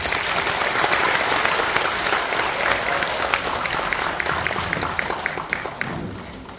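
Audience at a national assembly policy forum on home long-term care applauding to welcome a lawmaker to the podium, a dense steady wash of clapping that thins into scattered individual claps near the end.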